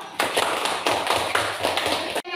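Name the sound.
classroom applause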